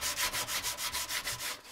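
Hand scratching or scuffing the surface of a computer case, a quick even series of about nine rasping strokes in steady rhythm, close and fairly quiet, with no talking.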